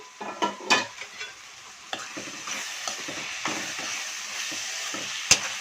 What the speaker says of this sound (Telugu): వేగుతున్నాయి, ఇంకొంచెం వేగాలి. ఇది ఉల్లిపాయలు ఇలా వేగాలి బాగా